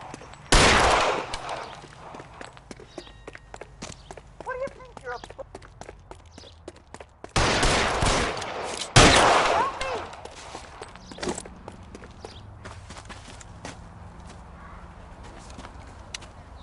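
Gunfire in the L.A. Noire video game: a few loud, sharp shots in separate bursts, among them a heavy double report near the middle, with footsteps and faint game sounds in the pauses between.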